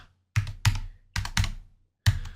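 Computer keys typed in a few quick bursts, crisp close clicks separated by short silent gaps, with no talk.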